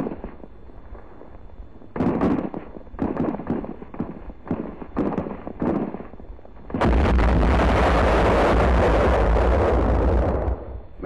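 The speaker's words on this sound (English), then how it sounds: "our troops are brought under small arms and mortar fire." Small arms and mortar fire on a Philippine beach landing at Cebu in March 1945 bursts out in a series of sharp shots and thuds, then a long, loud roaring barrage, with an old recording's hiss underneath.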